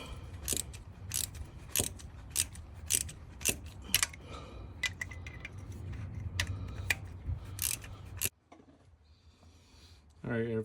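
Hand tools loosening the bolts on a Honda Pilot oil pump: a run of close, sharp ratcheting clicks and metallic taps in irregular bursts, stopping abruptly near the end.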